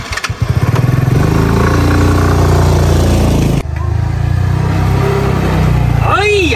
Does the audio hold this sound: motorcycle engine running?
yes